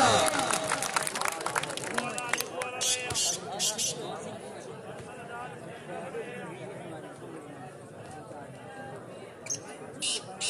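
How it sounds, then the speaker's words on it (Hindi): Crowd noise with scattered clapping and cheering at a PSL sports event, a steady hubbub of chatter over a few sharp bursts, with an announcer talking over it throughout. "वाह वाह वाह तालियां।"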